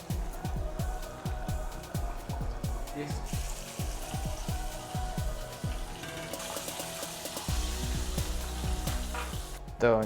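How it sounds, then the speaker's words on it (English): Buttermilk chicken pieces bubbling and crackling in hot oil on a Malaysian kitchen stove, a steady sizzle broken by sharp popping bursts, with no talking over it. "Now let's continue frying the rest."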